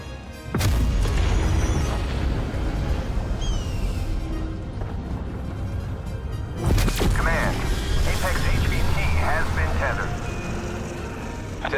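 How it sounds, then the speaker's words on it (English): Heavy weapon fire in Call of Duty Cold War Zombies roars as a sustained booming barrage, with a sharp blast near the start and another around the middle, layered under game voice chatter. "Locking target. Initiating firing sequence."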